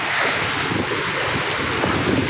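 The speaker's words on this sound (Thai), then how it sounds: "ที่ชายทะเลแล้วคลื่นแรงมากนะครับ" Strong waves break on the seashore at Ko Phayam in Ranong, Thailand, a loud, continuous roar of surf mixed with heavy wind buffeting against the microphone.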